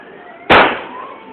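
A single loud New Year firecracker bursts close by in the town of Subic in the early hours of January 1, 2009: one sharp bang with a quickly fading tail over a low background hum.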